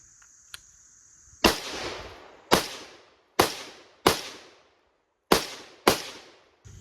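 Six sharp, loud gunshots ring out from a 10.5 inch 300 Blackout AR pistol, each one a hard crack with a quick decaying echo, spaced about half a second to a second apart outdoors.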